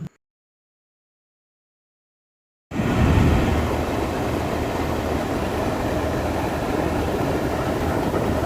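The Karachi Express passenger train pulls out of Sangi railway station bound for Lahore, starting abruptly after a moment of silence and then holding a loud, steady rumble of engine and wheels.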